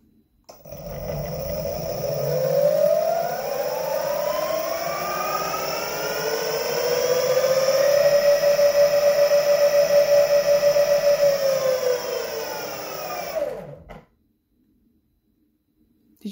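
Direct drive hub motor on a Meepo electric skateboard spinning up with a rising whine, holding a steady high electric tone for several seconds, then winding down and cutting off to silence; loud and close, no talk.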